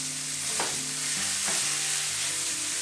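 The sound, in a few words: pork and sausage frying in a frying pan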